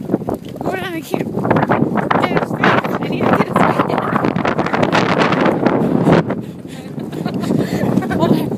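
Strong wind buffets the microphone with continuous low rumbling and gusty roaring throughout, loud and close.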